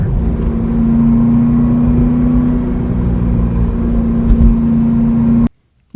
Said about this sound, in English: This is the fabled Corvette ZR1